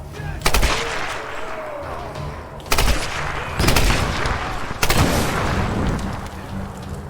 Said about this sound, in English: I like to use the machine gun for this.